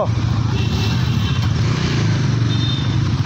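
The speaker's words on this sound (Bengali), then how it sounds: "মামা আমার বাইক চালাচ্ছে" A motorcycle ridden on a Sunday outing near the Kumartuli ghat in Kolkata, its engine a steady, close low rumble that holds for the whole stretch without rising or breaking off.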